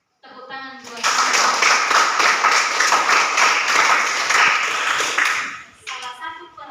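A group claps together for a speaker during a religious education lesson for children, loud, fast and steady for about five seconds, with a voice heard briefly just before and after.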